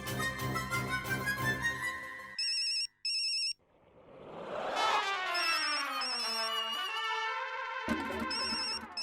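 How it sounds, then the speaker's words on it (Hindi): A phone ringtone plays loudly, a bright melodic electronic tune with repeating beeps and sweeping tones, continuing throughout with no voices. "सुबह सुबह कौन कॉल कर रहा है?"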